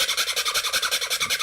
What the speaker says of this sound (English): Terrible sound when you sand that shit.